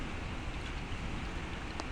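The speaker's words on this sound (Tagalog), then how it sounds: "Lakas ng ulan." Heavy rain pours down on a flooded street in Cainta, a dense, even hiss of downpour that stays steady and loud throughout, with a brief tap or splash near the end.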